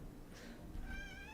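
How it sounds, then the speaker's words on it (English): A pet cat meows softly back at its owner at dinnertime, a faint rising-then-falling meow near the end over a noisy indoor background. "I don't know if you can hear him meowing, but he's like meowing back at me."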